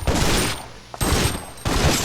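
Bursts of gunfire from zombie-fighting in the Biohazard Outbreak video game, three loud sustained volleys separated by short gaps, with no talk.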